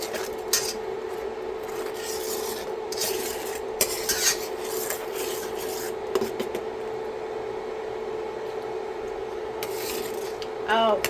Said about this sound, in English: So now I'm going to give it a stir.